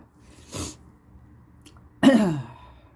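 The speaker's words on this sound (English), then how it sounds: "I'm going to sneeze. Excuse me." A sharp sneeze bursts out loudly, preceded by a short breathy intake, then quiet.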